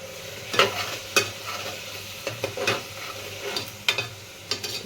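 A spoon stirs spices and red chili powder in a pan of tempered rice, with a low sizzle underneath. Several separate scraping strokes stand out over the frying, fairly close and moderately quiet, and no one speaks.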